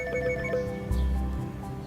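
Ringback tone while a basic non-internet phone calls the Bharat Gas cylinder booking line, a steady electronic ring with a clear tonal buzz and a short click at the very end.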